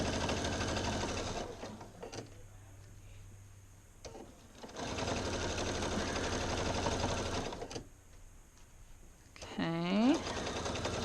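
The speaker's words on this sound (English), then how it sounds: "When you're going over the seams, just go a little bit slower because it's many layers of fabric" A domestic sewing machine runs in bursts while stitching over thick, many-layered seams of a pair of pants, a close rapid mechanical chatter that starts and stops, with a voice talking in the pauses.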